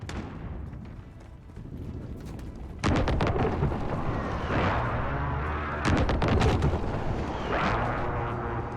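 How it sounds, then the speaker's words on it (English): Precision airstrike explosions in Call of Duty Warzone: two heavy blasts land a few seconds apart, each followed by a sustained, rumbling roar of battle noise that stays loud to the end. "Friendly precision airstrike inbound."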